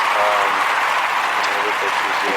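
Canned applause fills the whole stretch as a steady, dense burst of clapping, with no talking.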